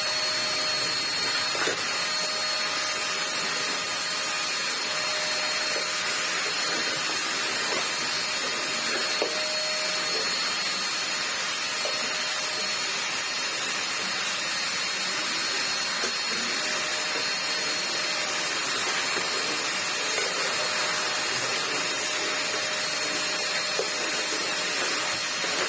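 A restored Sebo Dart 1 cylinder vacuum cleaner with new parts runs steadily, giving a loud, continuous, even motor whine and airflow roar from start to finish, with no speech.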